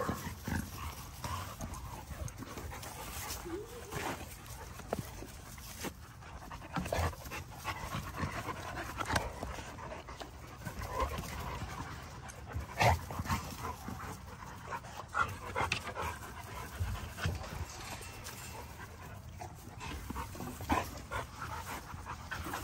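Dogs pant continuously and close by for the whole stretch, with occasional footfalls, rustles and thumps mixed in.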